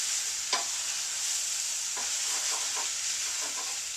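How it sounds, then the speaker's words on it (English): Bacon fried rice gets stirred in a sizzling pan, a steady frying hiss broken by a few soft scraping strokes of the utensil, close and without talk. "Now, stir all that in there."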